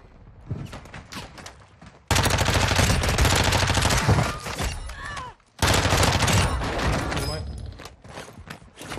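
Bursts of automatic gunfire in the Warzone 2 video game on Ashika Island, loud rapid volleys in two long stretches separated by a brief pause, with scattered quieter shots around them.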